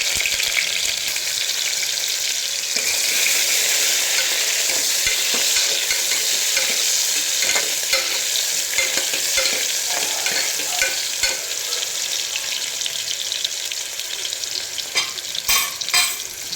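Onions with curry leaves and green chilli fry loudly in a pan, a dense continuous hiss with scraping stir strokes throughout and a few sharper clicks near the end.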